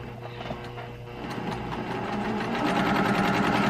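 A sewing machine stitches fabric at close range, a rapid rhythmic mechanical chatter that builds slightly louder toward the end, with no one talking.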